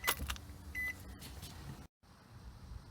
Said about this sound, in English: Put the keys in the ignition and turn it to on.